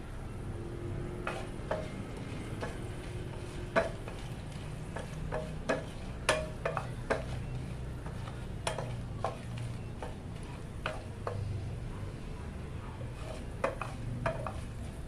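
Dried chilies fry in oil after shrimp in a Thai kitchen, a steady low sizzle broken by scattered clicks and utensil taps against the pan, with no talking.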